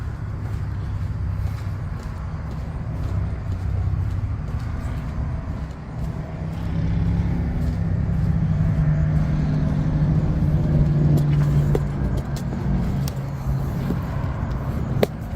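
Road traffic passes near a rain drain used as a stealth campsite in Southaven, Mississippi, giving a steady, muffled low rumble of vehicles that swells slightly midway and never fades out.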